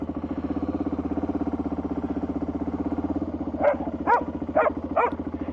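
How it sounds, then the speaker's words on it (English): Two dogs bark guarding a property, four sharp barks close together near the end, over the steady close idle of a running motorcycle engine. "There you come, the two dogs."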